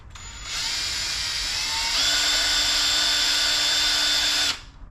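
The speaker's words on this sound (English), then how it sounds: "I've had luck with just using a drill bit to kind of drill the hole in." A power drill with a drill bit boring a hole in a 1976 Chevy LUV pickup radiator area during a B&M 80889 shifter install, a close, loud, whining spin that rises in pitch midway, lasting about four seconds before stopping.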